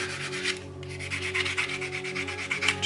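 A plastic Gundam model part is buffed with a sanding stick in quick, close back-and-forth strokes, a dry rhythmic rubbing heard alone.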